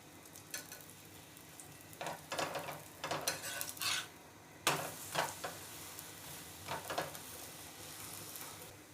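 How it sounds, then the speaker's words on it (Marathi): A maize-flour methi paratha fries in ghee on a hot pan, sizzling steadily while a utensil scrapes and taps against the pan in several close, uneven bursts. "हा दुसरा परोठा टाकूया त्यावर तूप सोडूया"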